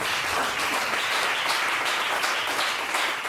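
A church congregation applauding, a dense and steady wash of many hands clapping that stays loud and unbroken throughout, with no talk over it.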